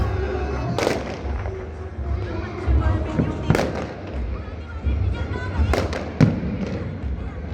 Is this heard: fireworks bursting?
yes